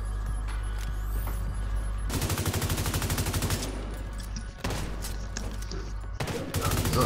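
Rapid bursts of automatic gunfire in The Division 2 video game, dense machine-gun style volleys in several close, loud stretches separated by brief pauses.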